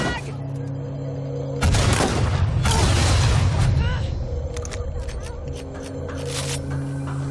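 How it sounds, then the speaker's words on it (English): A frag grenade goes off in Watch Dogs: Legion as a loud, close blast with a long, crackling roar that fades over a few seconds. Gunfire and shouted voices sound around it. "Dropping a frag!"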